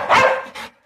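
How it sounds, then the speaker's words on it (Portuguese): A single dog gives one sharp, loud bark close by, followed by a shorter second yelp that trails off quickly. "esse tá atiçando esse cachorro"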